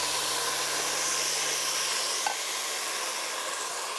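Dry white wine hits a hot pan of farro and bursts into a loud, steady sizzle and hiss that holds throughout, close up with a faint clink partway through.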